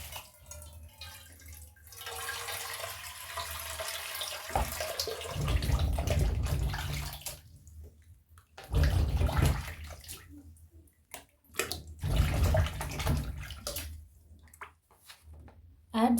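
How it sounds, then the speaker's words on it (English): Water is poured into a cooking pot for matoke in a few separate gushes, splashing loudly up close with short pauses between pours, while a person speaks intermittently. "I will add some water here."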